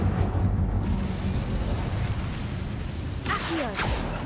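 Incendio fire spell cast in Hogwarts Legacy, a sustained roaring, rumbling burst of flame that carries loud and steady throughout, with a brighter whooshing flare near the end.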